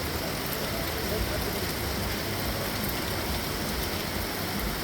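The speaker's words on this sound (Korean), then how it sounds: "비가 너무 쏟아져가지고 그냥 지금 기다리고 있습니다" Heavy autumn rain pours in a dense, continuous roar, a steady broadband wash that stays loud and unbroken throughout.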